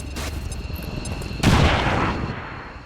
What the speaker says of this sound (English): Did it with a grenade.